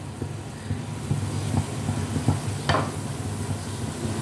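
Gram-flour batter for boondi fries in hot oil with a soft, continuous sizzle, and a spoon stirs and scrapes against the pan in a few clear taps.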